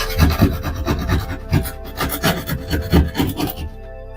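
Drywall saw held level, cutting with quick back-and-forth rasping strokes in an uneven rhythm, close and fairly loud, with no voices, ending abruptly.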